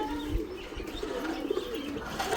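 Domestic pigeon cooing near home, soft low murmuring coos repeating over steady outdoor background noise, no talking.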